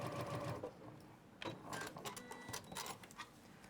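Close but quiet rapid stitching of a sewing machine sewing through a seam allowance, running in short bursts of fast mechanical clatter with brief pauses between.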